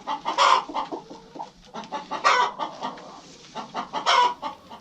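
A batch of 200 four-week-old chicks clucking and cheeping in a brooder, with bursts of overlapping calls rising and falling in close, busy waves.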